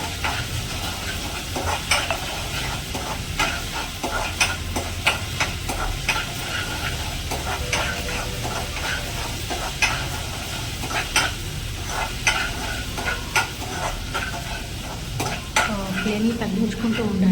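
Green chillies and ginger-garlic paste sizzle in a pan for a simple chicken curry while a spoon stirs, with a steady frying hiss and repeated scrapes and clinks against the pan, close and clear.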